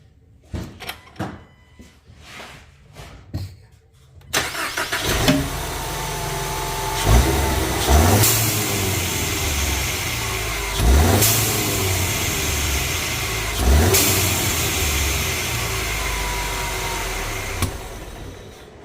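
A Ford Mustang EcoBoost engine starts after a few clicks and rumbles, then revs several times up close, each blip ending in a sharp blow-off valve whoosh.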